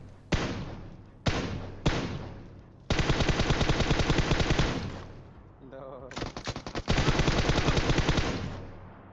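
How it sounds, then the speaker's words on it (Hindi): An UZI submachine gun fires in the mobile battle royale game PUBG Mobile, opening with a few single loud shots and then long rapid automatic bursts of close, sharp gunfire with brief pauses between them. "बोट फायर तो यहाँ पे मैं बिल्कुल चलाता रहता हूँ ना बोट की तरह गोली पेलता रहता हूँ"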